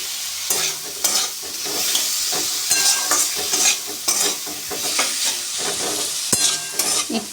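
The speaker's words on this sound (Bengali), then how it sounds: "টমেটোটা একটু নেড়ে চেড়ে নেবো, অল্প একটু নুন দেবো ওতে" Tomatoes with a generous pinch of salt are stirred and fried in a hot pan: a loud, close sizzle broken by repeated rhythmic scrapes and clatters of the spoon, with no talking.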